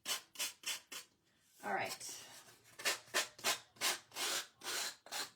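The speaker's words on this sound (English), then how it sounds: "I want to use the sandpaper to go around the edges a little bit" Sandpaper rubs along the edges of a wooden cross painted in two colours for a rustic shabby-chic finish. The close scratchy strokes come in a quick, steady rhythm, with a brief spoken word during a pause.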